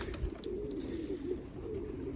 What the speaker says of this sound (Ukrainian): фабрика спортивних голубів